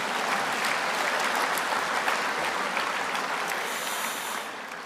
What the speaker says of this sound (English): just another round of applause for Eli